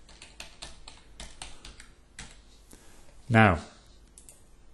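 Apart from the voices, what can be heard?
typing on a computer keyboard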